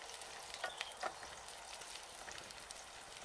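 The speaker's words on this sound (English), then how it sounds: "We fry the onion at not too high temperature until it becomes golden and" Onion frying gently in olive oil in a pan, a soft, faint, steady sizzle with a few small pops and crackles early on, alone without voices.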